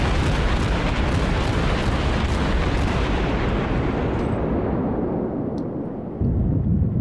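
Naval guns in World of Warships fire at an island, a massive rumbling roar of artillery blasts and explosions that stays loud and dense, then thins as it trails off near the end.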